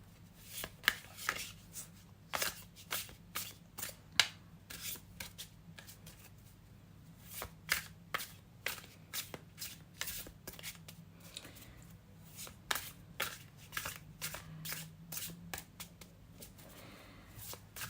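A tarot deck is shuffled by hand in repeated bursts of crisp, riffling card flutters separated by short pauses, close up in a quiet room.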